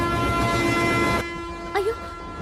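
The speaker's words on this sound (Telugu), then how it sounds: "ట్రైన్ స్టార్ట్ అయింది" A train horn sounds as the train starts moving, a sustained steady tone that cuts off partway, followed by a brief short toot and quieter background.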